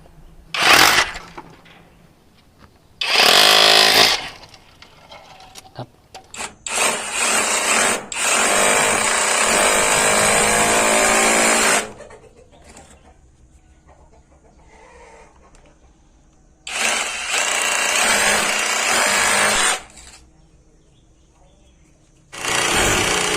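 An OSUKA OSRH-26 cordless brushless rotary hammer drill runs in several loud, sustained bursts, stopping and starting, with quieter gaps and a few short revs between.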